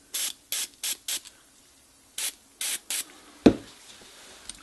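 Short, close hissing squirts of cleaner sprayed into the controls of a NuTone ISB53 intercom remote station: a quick run of four bursts, a pause, then three more, followed by a sharp click.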